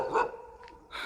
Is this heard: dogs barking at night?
yes